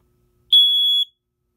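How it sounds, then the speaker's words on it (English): A ceiling smoke detector gives a single loud, piercing electronic tone lasting about half a second during a fire alarm system test. It sounds alone against silence. "So now we're going to test the smoke detector."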